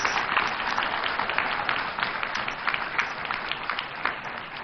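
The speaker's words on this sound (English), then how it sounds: "Round of applause." Steady crowd applause with dense, crackling claps, sustained at an even level throughout without any voices.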